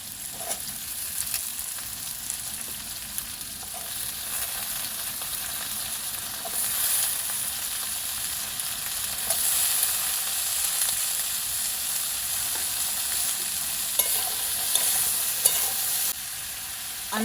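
Potatoes and jackfruit seeds fry together in oil in a village kitchen, with a constant close sizzle broken by scraping stirring strokes throughout, and no talking.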